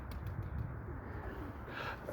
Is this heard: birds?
yes